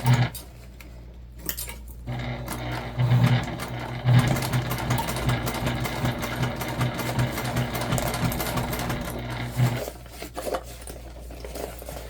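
A sewing machine stitches slowly through thick layers of a waist pack, its steady motor hum and rhythmic needle thumps running continuously for about eight seconds before stopping, with no talking.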